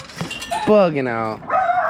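Excited dogs letting out a quick burst of high, whining yelps and a bark with a drawn-out yowl, close and loud, with a person's voice mixed in.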